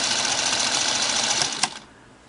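A Singer Model 221 Featherweight sewing machine motor whirs fast and steadily on a newly fitted V-belt, close and fairly loud, then winds down and stops with a small click.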